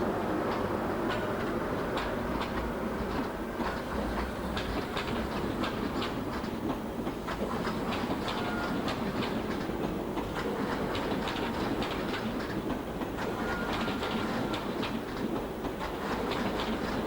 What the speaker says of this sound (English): Here's an RFD 90 substitute on the 9:33 Euston to Preston.